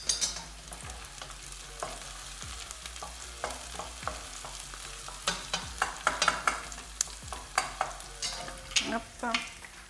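Onions sauté in a pan with a steady sizzle, punctuated by frequent sharp stirring clacks and scrapes that grow busier toward the end, close and with no talking.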